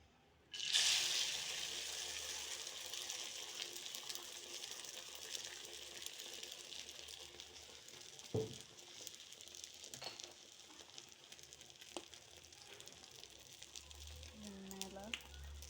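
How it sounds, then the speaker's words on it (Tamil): Beaten egg hits a hot dosa griddle (tawa) greased with a little oil, bursting into a loud, steady sizzle that settles into a continuous crackle, with a few clinks of a utensil toward the end. "இப்போ நம்ம இந்த முட்டை எடுத்து இதில் ஊற்றிடலாம்."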